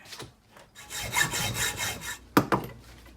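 A mini bike part clamped in a vise being trimmed, with a few short scraping cutting strokes in a rough rhythm, then two sharp louder rasps near the end.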